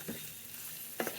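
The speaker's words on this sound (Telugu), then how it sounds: "జీలకర్ర, ఆవాలు, ఎండిన మిర్చి ఇవన్నీ వేసిన పోపు అయింది." A tempering of cumin, mustard seeds, dried chillies, chana dal and urad dal frying in oil, heard as a faint steady sizzle with a few soft stirring scrapes near the start and end, no talk.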